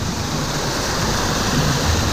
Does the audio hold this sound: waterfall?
yes